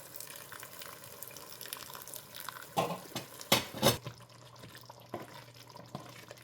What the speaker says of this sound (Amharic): አሁን ደግሞ ትንሽ የሞቀ ውሃ እንከልሰዋለን።